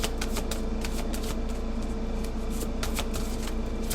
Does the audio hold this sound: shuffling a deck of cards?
yes